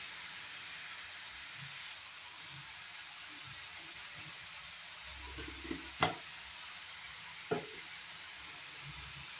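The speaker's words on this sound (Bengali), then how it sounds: "বাড়িয়ে দিয়ে একটু ভালো করে 1 মিনিটের মতো ফ্রাই করে নেব" Ingredients fry in a pan on the stove, a faint steady sizzle with a couple of brief sharp clinks of a utensil against the pan partway through.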